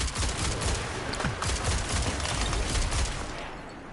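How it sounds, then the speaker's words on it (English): Rapid, loud scout rifle fire in Destiny 2, a Deep Stone Crypt weapon with the reconstruction perk, cracking off shots in a fast, nearly continuous stream before easing slightly toward the end. "Really fast firing scout with reconstruction as well."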